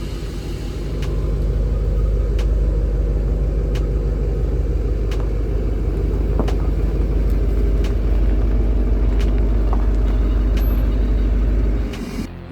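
Duramax diesel-swapped Camaro reversing into a garage, its engine a loud, close, steady low rumble that holds evenly before cutting off abruptly at the end.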